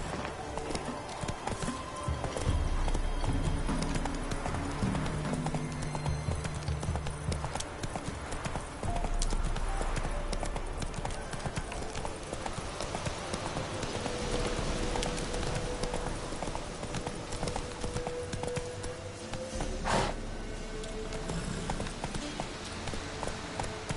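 Roach, a horse in The Witcher 3, gallops with rapid, steady hoofbeats throughout, loud and close over a busy game soundscape with faint tonal music.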